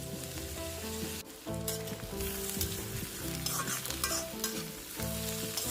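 Egg chowmein fries in a hot pan with a constant sizzle while a utensil stirs and scrapes the noodles. Steady tonal hum beneath, close and continuous, with no talking.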